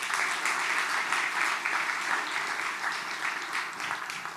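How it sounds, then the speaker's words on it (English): A large audience at a compassion-themed event keeps up a dense, loud and steady round of applause throughout, with no voices over it. "And I think another big round of applause to him."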